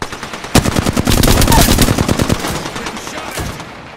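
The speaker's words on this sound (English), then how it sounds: "I am taking fire." Automatic weapon fire in the Apex Legends video game, a loud sustained burst of rapid shots that tails off, with no speech.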